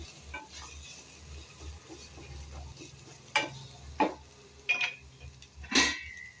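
Vegetables sauté quietly in a pan for basmati pulao, a soft low sizzle under a few sharp scrapes and clinks of a utensil against the pan near the end.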